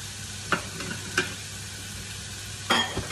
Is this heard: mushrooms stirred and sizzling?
yes